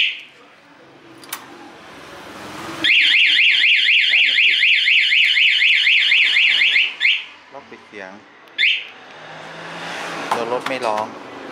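A Honda CBR150 motorcycle alarm wails in a loud, rapid warble for several seconds, then falls silent, followed by a few short chirps and beeps.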